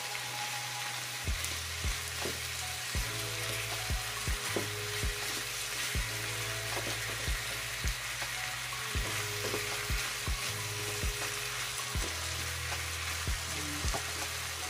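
Chicken adobo pieces frying in melted butter in a pan, a continuous sizzling hiss broken by repeated low scraping and knocking strokes from stirring at an uneven rhythm, close by with no talking.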